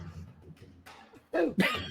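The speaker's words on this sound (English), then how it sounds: "I'm gonna sneeze" A single sneeze bursts out close to the mic after a brief quiet stretch of soft room noise, a sharp two-part snap that is loud and abrupt.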